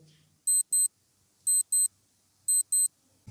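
A quiz countdown timer ticking in crisp, high double beeps, three pairs evenly spaced about a second apart, fairly faint against a quiet background.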